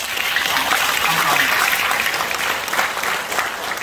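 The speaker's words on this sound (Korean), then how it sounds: "박수 한번 치시죠" Loud, sustained applause from an audience filling the room at a founding forum, a thick continuous wash of clapping with a few voices faintly mixed in.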